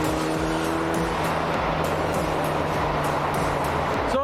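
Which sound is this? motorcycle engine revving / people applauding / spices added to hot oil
motorcycle engine revving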